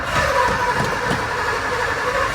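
A 1964 Ford Country Squire engine turns over on a newly replaced starter, a close, continuous rhythmic cranking churn that keeps going without catching.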